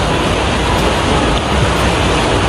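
Heavy rain pours down and keeps strengthening, a loud, dense, steady hiss with no breaks and no voices.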